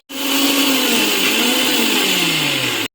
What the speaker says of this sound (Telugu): మిక్సీ జార్లో కూల్ వాటర్ వేసి మనం మిక్సీ తిప్పాలి